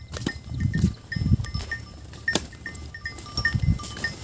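A flock of sheep and goats grazing outdoors, with scattered bleats, rustling and soft movement, occasional higher calls and light clattering, close and moderately loud.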